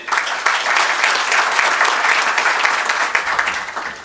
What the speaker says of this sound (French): Je vous invite à accueillir avec vos plus chaleureux applaudissements Monsieur Mostafa Jali